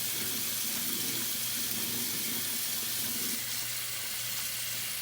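Tap water runs steadily into a sink while shampoo is rinsed out of a lace wig, a continuous close splashing hiss with a faint low hum underneath and no talking.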